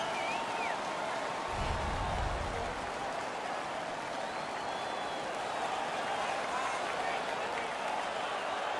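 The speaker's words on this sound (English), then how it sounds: "Their man's won the fight. The crowd is ecstatic." Ice hockey arena crowd in the NHL 16 video game roaring and cheering after a fight, a loud continuous wash of crowd noise with a brief heavier burst near the start.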